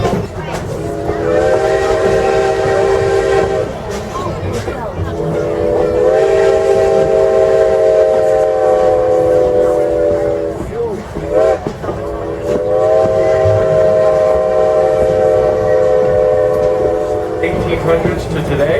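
A Strasburg Railroad train in Pennsylvania sounds two long, loud, sustained whistle blasts over the steady rumble of the running train.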